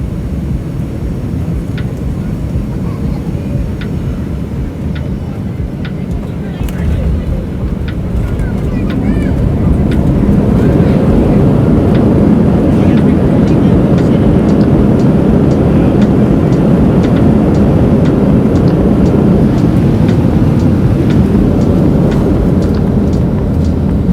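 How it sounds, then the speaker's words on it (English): Inside the cabin of a WestJet airliner on approach into Winnipeg, a loud steady engine and air rumble fills the space and grows stronger partway through, with faint scattered clicks above it. "Cabin is being prepared for landing."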